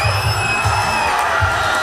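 Fight-night crowd at an Eclipse Fight League Gladiators Cup finals event roars in a steady, loud wash of cheering and whoops, with low rhythmic thumps pulsing underneath throughout.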